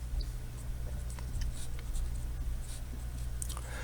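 Pen or marker strokes writing an equation on a board or paper during a physics kinematics lesson, a series of faint scratchy taps and scrapes over steady low room hum, with no talking.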